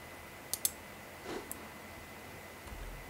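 A computer mouse clicking during work in Autodesk Fusion 3D design software: two quick soft clicks close together, then a fainter single click, all quiet against a low room hiss.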